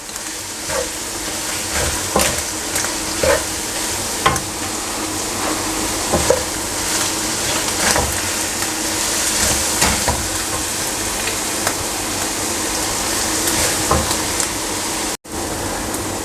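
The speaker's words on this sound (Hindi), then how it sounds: "इस मसाले को मैं 2 से 3 मिनट तक भून लूँगा अच्छी तरीके से" Karahi masala frying in a pan for mutton keema karahi, a steady close sizzle with scattered crackles and the occasional scrape of stirring, continuous throughout with no voices.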